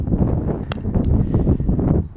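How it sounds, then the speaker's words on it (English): Steady outdoor wind buffeting the microphone on a pickleball court, a loud continuous low rumble with a couple of faint brief knocks and no talking. "the wind is kind of blowing"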